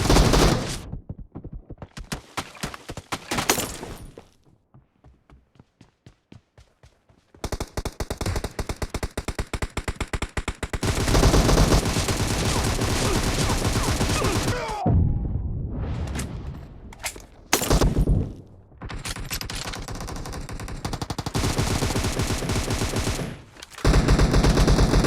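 Video game gunfire in a team shooter match, long loud bursts of rapid automatic fire broken by short pauses and a quieter stretch, close and dense.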